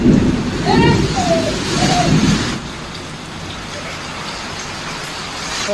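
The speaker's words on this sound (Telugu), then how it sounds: "ఫ్రెండ్స్ ఫుల్ వర్షం కొడుతుంది." Heavy rain pours steadily, loud and close, with a low rumble that could be thunder. A voice talks over it during the first couple of seconds before the downpour continues alone.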